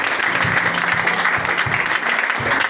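A congregation applauds during a church prayer service, a dense burst of clapping with a few heavier rhythmic claps standing out, fairly close and continuous throughout.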